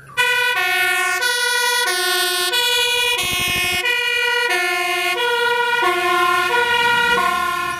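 A toy ladder fire truck's electronic siren plays loud and steady, cycling through stepped synthetic tones with a brief rapid warble partway through, heard alone without talk.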